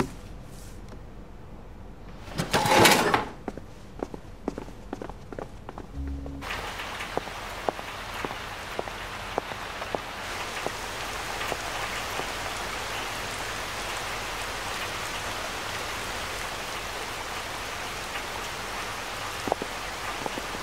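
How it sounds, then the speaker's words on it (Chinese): Steady rain falls outside, a dense continuous patter on surfaces that grows fuller after a few seconds, with a loud burst of near clatter early on and no talking. "老板，外面下雨了。"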